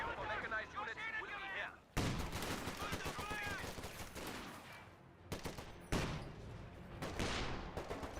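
M1 anti-tank guns fire in Company of Heroes 2, with sharp, booming battle shots and gunfire bursting in repeated clusters under steady overlapping talk from a commentator.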